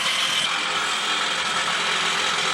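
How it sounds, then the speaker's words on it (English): An electric jackhammer works at an excavation site, giving a loud, continuous mechanical clatter that holds steady throughout without pauses or speech. "As you hear the electric jackhammer"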